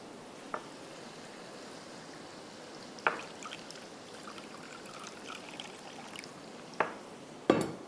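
A little water poured into a cooking pan of tomato and roasted cumin masala for anday cholay, heard as a steady streaming splash with a few sharp clinks, close by and fairly quiet.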